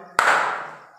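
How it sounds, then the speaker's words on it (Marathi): A single sharp hand clap rings out once and decays briefly, standing in for a letter in the Bingo song. "इथं टाळी वाजणार"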